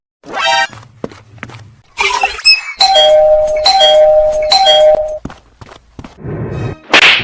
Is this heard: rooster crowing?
no